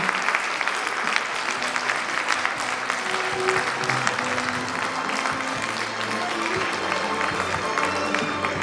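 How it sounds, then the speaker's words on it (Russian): Audience applause at the closing ceremony of a contest, a hall full of clapping that runs steadily and loudly, with a few voices murmuring underneath. "Всех поздравляем, давайте аплодисментами поддержим."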